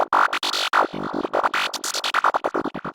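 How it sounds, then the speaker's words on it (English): An FM synth patch in Serum plays a choppy, rhythmic run of short bright tones that start long and become quick staccato pulses, loud and close, with no voices. "So we have this FM patch in here,"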